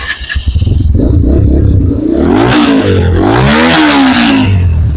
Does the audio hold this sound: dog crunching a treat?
no